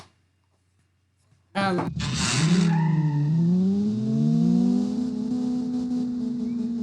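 A manual hot hatch in the BeamNG.drive driving game lets out a sharp tire squeal, then its engine revs loudly and holds in one gear with a rising whine as it keeps pulling.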